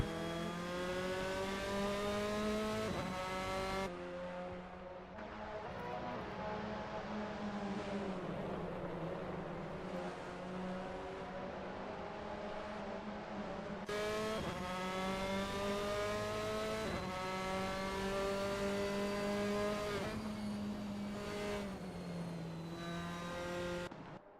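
Formula race cars in a sim racing game, engines screaming at high revs as one car dives down the inside to overtake at Barbagaloo Raceway, steady loud whine with gear shifts and pitch sweeps throughout.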